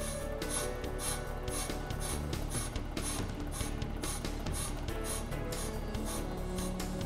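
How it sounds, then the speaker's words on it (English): A brake lathe cuts a brake drum, giving a continuous steady metallic whirring and grinding drone with a rhythmic scraping pulse, loud and close throughout. "slowly move the cutting bore to the back of the drum, being careful not to hit the back of the drum"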